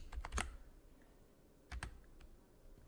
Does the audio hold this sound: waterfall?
no